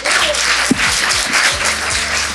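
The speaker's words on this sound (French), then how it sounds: "En fait, vous vous applaudissez vous" An audience at a national OSCAR event applauds, a dense, steady wash of clapping from many hands at close range that carries on without a break.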